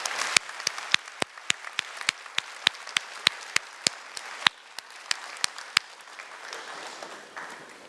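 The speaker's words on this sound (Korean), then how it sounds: "이분들 위해 뜨거운 응원과 격려의 박수 부탁드릴게요." Church congregation applauding finance committee members standing during a worship service: a steady wash of many hands clapping in a hall, with sharp louder individual claps standing out at a regular rhythm, fading somewhat toward the end.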